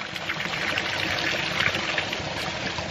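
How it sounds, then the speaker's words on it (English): Water draining out of a waterlogged pressure tank on a ram pump system through an opened union, a steady loud pouring and trickling stream that runs continuously without pause. "you can open up this union to allow the water to come out"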